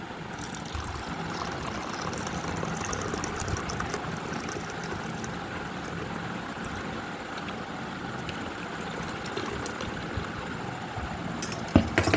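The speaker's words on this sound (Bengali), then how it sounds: "এবার এটার মধ্যে দিয়ে দেবো উপর থেকে ঢালবো" Whisked yogurt mixture being poured from a height for sweet curd makes a steady, fairly faint rushing pour with no break, ending in a couple of brief knocks.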